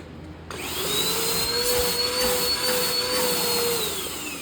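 A bagged vacuum cleaner switches on suddenly and runs its suction with a loud steady roar and a high whine, close by, easing slightly at the end.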